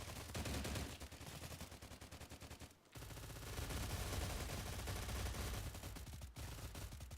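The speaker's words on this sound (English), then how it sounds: "Who is shooting me?" Dense, rapid automatic gunfire from the shooter game STALCRAFT rattles almost nonstop, loud and close, dipping briefly near the three-second mark and cutting off for an instant before resuming.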